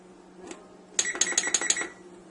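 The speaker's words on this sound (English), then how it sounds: "I'm setting the timer for 45 minutes" A kitchen timer is set for 45 minutes while lentil soup cooks: about five quick, bright electronic beeps follow a single faint earlier tone, close and clear in a quiet room.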